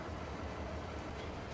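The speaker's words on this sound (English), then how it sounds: "start the engine and I can move forward," A train engine running in Farming Simulator 22, a steady low rumbling drone, constant and continuous at moderate loudness with no talking.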